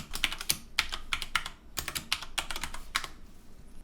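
Rapid typing on a computer keyboard, with crisp clustered keystrokes in irregular bursts and short pauses, close and clear with no voices.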